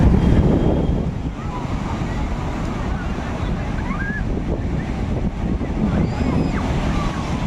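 Sea waves wash onto Swargadwar beach in Puri, a steady broad roar of surf with wind buffeting the microphone, the wash strongest at the start and then settling into a constant rush.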